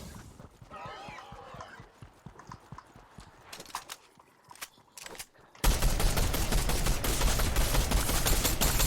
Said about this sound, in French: On mitraille, on mitraille.